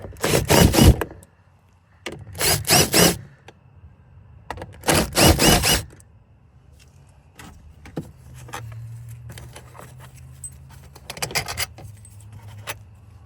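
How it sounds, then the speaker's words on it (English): A cordless drill driver backs out the door speaker screws on a 2005–2008 Ford F-150, giving three short, loud whirring bursts close by, then a quieter, lower steady hum. "I've got it on a drill driver."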